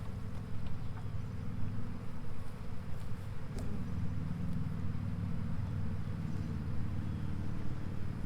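Honeybees shaken off a honey-laden comb frame from a swarm trap give a steady, dense buzzing that holds throughout, with a few sharper knocks partway through.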